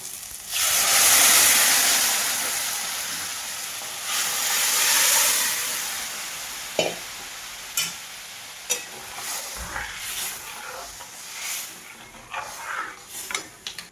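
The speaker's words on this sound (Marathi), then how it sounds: "आता ह्याच्यामध्ये ना दही ओतून घेते" A steady sizzling hiss as yogurt is poured into hot tempering in a pan for kadhi, swelling and fading, followed by scattered clinks and light stirring knocks close by.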